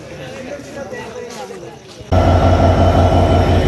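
Quiet ambience at Mouchak station, then the Chilahati Express abruptly roars in close by on the loop line, a loud rumbling rush of rolling wagons and wheels that continues steadily.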